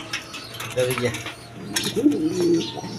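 Breeding pigeons at a pigeon sale give soft, low cooing calls in short warbling phrases, close by, with light rustles and clicks around them.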